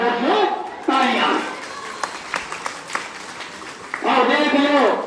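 A crowd claps at an army homecoming welcome ceremony. A short burst of applause falls between stretches of someone speaking loudly.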